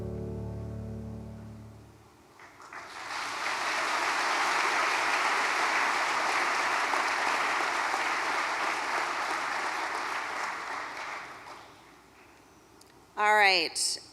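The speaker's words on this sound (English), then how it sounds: "Let's give a big round of applause for the Milwaukee High School Sports Awards Courage Award recipient" Sustained audience applause fills a hall at the 2022 Milwaukee High School Sports Awards, swelling after a brief lull and holding steady for about ten seconds before fading, with a short burst of voice at the end.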